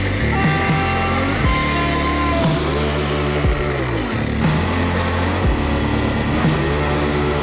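A power tool grinds through a hardened steel part to shorten it, a loud continuous high whine that dips in pitch each time the cut bites harder, running close and unbroken throughout.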